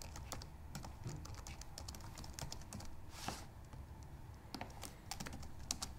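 Someone types code on a computer keyboard, a close, fairly quiet run of irregular key clicks and taps that lasts about six seconds, with no voices.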